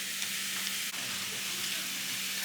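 Mushrooms and baby Swiss cheese stirred together in a hot frying pan, giving a steady close sizzle with a soft scrape of stirring and no talking.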